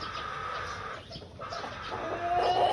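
Pure white Kelso chickens, a breeding trio with pea comb, clucking softly in a short run of low calls, close and moderately quiet.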